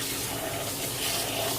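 Rice being rinsed under a running tap in a kitchen, a steady close splashing rush of water with no talk.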